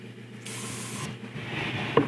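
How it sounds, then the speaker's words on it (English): Aerosol spray paint hissing onto a 1/6-scale vinyl model kit in a steady burst of about half a second, followed by a quieter, softer hiss and a small clunk at the end. "We're gonna spray the inside and the outside of this."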